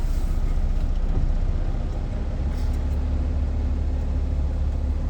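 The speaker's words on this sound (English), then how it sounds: "Now I'm going to start the truck and rebuild air pressure" A truck engine runs at a steady low rumble close by, a loud continuous idle with a deep droning hum and no distinct cranking, no talking over it.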